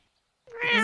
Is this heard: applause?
no